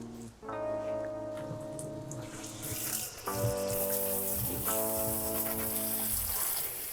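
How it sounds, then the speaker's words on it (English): Water pours steadily onto a freshly repotted spider plant, a continuous close splashing and trickling that swells louder partway through, with no talking. "just gonna bring it over there and give it a good watering"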